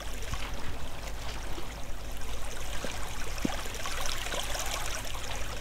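Flowing water in the video game Minetest, a continuous trickling, bubbling stream-like wash that stays at a steady level throughout, close and unbroken, with no voices over it.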